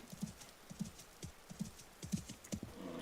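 Horse hooves galloping in the game Vintage Story, a quick rhythmic clip-clop of repeated hoofbeats at a steady pace, fairly quiet and close, with faint talk in the background.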